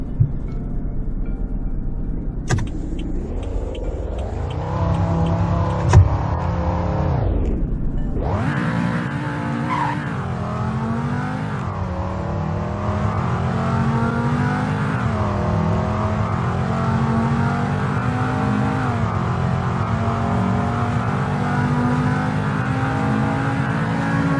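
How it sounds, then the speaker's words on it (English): A five-cylinder car in Roblox Greenville with a V10-like tone accelerating from standstill to 100 and braking, engine rising through several gear shifts into a steady, loud high-pitched drone. "Here's a 0 to 100 and braking test."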